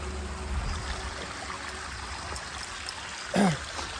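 A gentle, continuous babble of flowing stream water, faint and steady, with a brief voice-like sound near the end.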